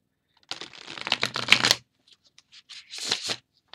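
A Mermaid Tarot card deck being side-shuffled by hand: a close, quick riffle of flicking cards, a short pause, then a second briefer burst of shuffling.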